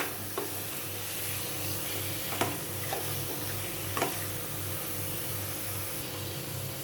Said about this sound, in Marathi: आता मी यामध्ये शेंगा आणि बटाटा घालून घेते आणि हे व्यवस्थित मिक्स करून घेते